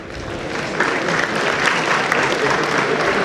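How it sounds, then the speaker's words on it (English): Audience applause fills a hall at a national convention of NIRC during an award presentation, a dense steady clatter of many hands that swells slightly after the first second, with faint voices underneath. "Give him a big round of applause."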